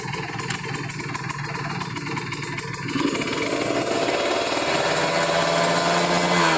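A Kawasaki Ninja RR two-stroke motorcycle engine with a PWK carburetor revs steadily at low RPM, loud and close, its note climbing and thickening about halfway through, with no talk.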